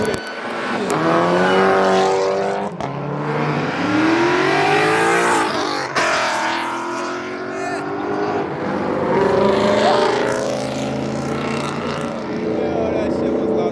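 A loud car revs hard at a car meet, its engine note rising and falling in repeated surges with sharp pops between, fairly close, with crowd voices and chatter underneath.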